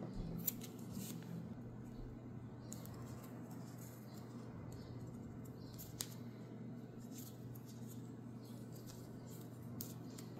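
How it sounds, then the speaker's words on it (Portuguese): Scissors snipping crochet yarn to finish off a crochet bag: a few quiet, crisp clicks and snips, close by, over a low steady background hum. "a gente pode cortar o fio para arrematar"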